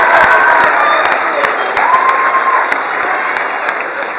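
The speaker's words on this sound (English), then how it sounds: "Let's give him an applause right now for being one of the best teachers in this building." A room full of people applauding a teacher at school, steady dense clapping that stays close and loud throughout, with a few scattered cheers inside it.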